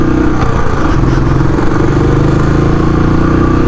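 Royal Enfield Classic 500 motorcycle engine on a freeway: a steady, loud, thumping drone with constant wind rush, held at an even level throughout.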